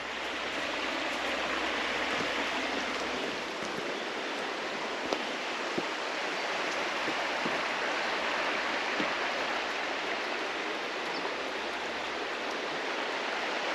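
The East Fork River pours over a waterfall with a steady, full rushing roar that stays even and fairly loud throughout.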